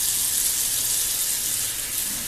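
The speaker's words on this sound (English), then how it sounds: "We're gonna put some water in it" Water poured into a pan of bagged cabbage, a steady hissing splash and sizzle that runs continuously and close.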